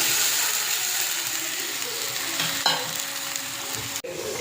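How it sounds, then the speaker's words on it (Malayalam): Water going into a hot pan for semiya upma, a broad steady sizzling hiss with a few clinks of utensils, close and fairly loud, then a sharp knock near the end. "ഇതിലേക്ക് ആവശ്യമായിട്ടുള്ള വെള്ളം നമ്മൾ ഒഴിക്കുകയാണ്"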